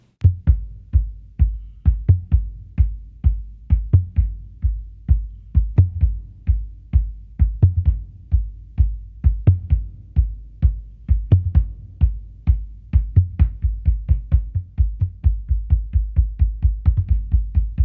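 Steady, rapid drumming on two toms muffled with dish towels, dull thuds with little ring, played continuously in a driving rhythm with no talk.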